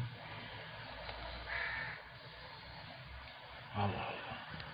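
A few crows caw in the distance from trees, two or three harsh calls over faint outdoor background noise.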